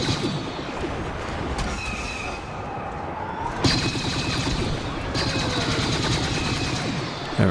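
Rapid, sustained gunfire in a Star Wars Battlefront battle, shots crackling in dense overlapping bursts with a sharper volley partway through, loud and continuous against a busy combat din.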